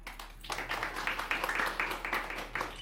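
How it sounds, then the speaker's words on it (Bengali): An audience at a Ramakrishna Mission maternity and child welfare relief program claps in a steady patter that carries through the whole moment, with a faint voice underneath. "মহারাজকে মহারাজ তুলে দিই, একটু করতালি হয়ে যাক।"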